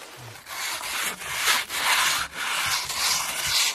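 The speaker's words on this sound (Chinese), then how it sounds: "主要这个面我磨了挺长时间的" Someone sands the worn, paint-flaking surface of an old wooden furniture piece, making steady rasping strokes that repeat in a rhythmic back-and-forth, close and fairly loud with no talk.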